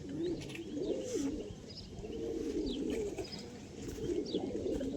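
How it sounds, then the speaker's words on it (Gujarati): Bathing pigeons in Kutch coo in low rolling phrases, several birds close by, with a few faint higher chirps above a steady murmur. "કબૂતર નાવા માંડ્યા બધાય."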